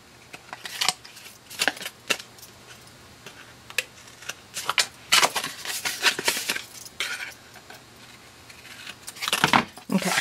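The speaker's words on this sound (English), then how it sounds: "Now I'm going to take my scissors and remove these tabs." Scissors snip paper tabs off a Halloween papercraft project in a string of crisp, close cuts and clicks, separated by quiet pauses and the small rustle of handled paper.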